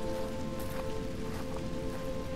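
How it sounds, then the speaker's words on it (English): Steady rain beating against sand, a dense, even hiss of drops that fills the whole moment without letup, with a faint constant hum running beneath it. "The sound of the rain beating against the sand"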